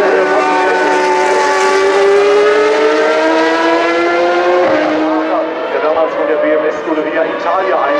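A BOSS GP single-seater race car pulling out of the pit lane at the Hockenheim Historic qualifying, its engine a loud high-pitched whine rising steadily through gears, with talk over it throughout.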